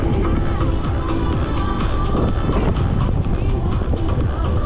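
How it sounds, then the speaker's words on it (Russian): Cold wind gusts on the seaside embankment at Feodosia in Crimea, roaring loudly and continuously against the microphone with a broad rushing noise and no pauses. "Замахал этот холодный ветер"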